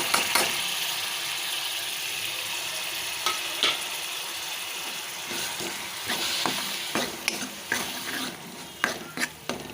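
Steady sizzling of tomatoes sautéing in a hot pan for paneer bhurji, with occasional stirring scrapes and light clinks of a utensil against the pan.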